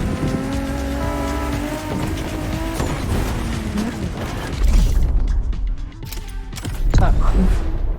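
Hypercars race through a downtown street in The Crew Motorfest, loud engines roaring and revving with tire squeal and heavy thumps, a voice speaking faintly underneath.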